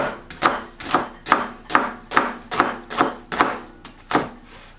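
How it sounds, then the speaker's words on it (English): A knife julienning an onion on a cutting board makes about nine crisp, evenly spaced chops in a steady rhythm, close and clear, with no talking. "Alright, we got our onion. I'm going to just julienne this so it somewhat matches the slice of the potato"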